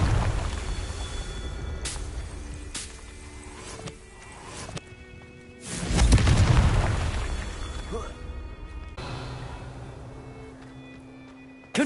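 Confringo spell blasts in Hogwarts Legacy hit as booming explosions, with one heavy, rumbling burst in the middle that swells and then slowly fades, alongside lighter magical crackles and bursts.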